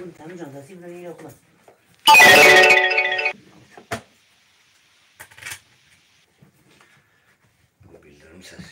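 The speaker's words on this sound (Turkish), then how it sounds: "Bu bildirim sesi." A notification sound during a live stream, a short bright electronic chime of about a second, loud against near silence, with someone speaking quietly before it.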